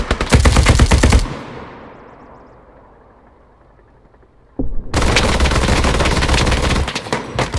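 Sustained automatic gunfire from the World War II shooter Hell Let Loose, loud and dense for about a second, then a fading rumble, then another long unbroken stretch of rapid fire.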